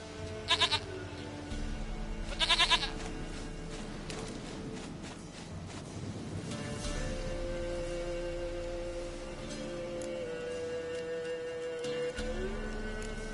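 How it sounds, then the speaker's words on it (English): A goat in The Witcher 3 video game gives a few short bleats early on, separated by quieter stretches of footsteps and soft game ambience, with no talking. "Goat of mine, dearest, sweetest goat."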